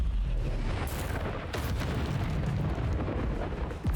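Confringo explosive spell blasts in Hogwarts Legacy, a dense rumbling barrage of booms and bursts with sharp cracks near the start and middle, loud and continuous without talk.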